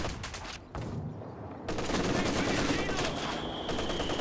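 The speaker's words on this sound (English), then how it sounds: "Don't think Unbalanced realized he was getting fired at by the creeping barrage." Artillery barrage gunfire in the Company of Heroes 2 real-time strategy game, a dense, continuous rattle of shots and blasts over a steady battle din, growing louder and fuller partway through.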